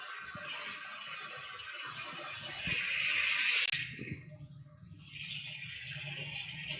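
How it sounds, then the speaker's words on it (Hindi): A cup of water pours into a pot of potato and egg curry, a steady rushing splash that swells briefly before settling into a quieter background hiss, with no talking. "अब इसमें हमने 1 कप पानी का डाल दिया है"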